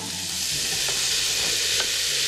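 Green freekeh tipped into a pan of frying carrots, onion and garlic gives a steady close sizzle, with a couple of soft stirring scrapes and no voices.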